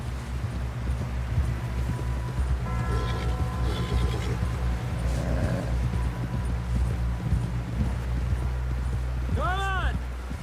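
Horse hooves in Red Dead Redemption thud and clip-clop steadily as a rider gallops toward camp, under a low wind rumble, with voices talking over the ride.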